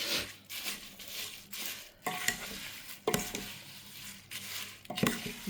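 A homemade herbal hair oil mixture is stirred in a container, giving bursts of wet swishing and clinking of a spoon against the vessel, coming in uneven strokes separated by short pauses.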